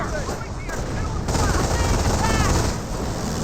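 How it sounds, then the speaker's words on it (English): Machine-gun fire from a strafing run in the strategy game Company of Heroes, dense rattling bursts with a droning aircraft whine overhead, moderately loud against busy battlefield noise. "Here comes another strafing run."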